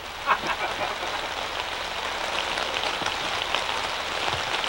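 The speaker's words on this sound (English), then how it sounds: "Are you picking up the raindrops sound on the roof?" Steady patter of rain on a roof in Quebec, a constant hiss of drops with a brief faint knock near the start.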